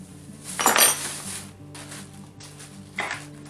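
Nuts and bolts clink and rattle in short metallic bursts while an outer frame is assembled for a rotocaster, with a louder jangle near the start and a smaller clink toward the end, close and without talk.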